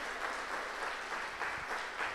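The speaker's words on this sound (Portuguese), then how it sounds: "Você pode dar um aplauso ao Senhor?" Church congregation applauding during a worship service, with steady, moderately quiet clapping from a crowd that continues without pause.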